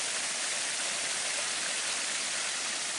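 Lots of water rushes steadily at a museum site in Jäderbruk near Arboga, a dense, even roar of broadband noise with no breaks, close and constant, with no voices.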